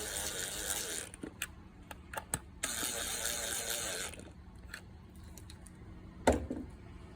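Screws being tightened on a Pentair IntelliFlo pool pump keypad, close ratcheting clicks from a screwdriver in two bursts separated by quiet, with scattered small mechanical ticks and a sharper knock near the end.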